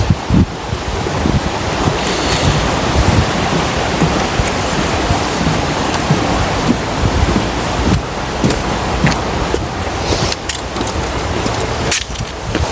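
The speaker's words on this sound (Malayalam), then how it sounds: "ഇതൊരു ചെറിയ വാട്ടർഫാൾസ് ആണ് കേട്ടോ" Small waterfall at Mount Albert, New Zealand, producing a steady, loud broadband rush of falling water that stays dense and continuous throughout, with some wind buffeting on the microphone and no voices.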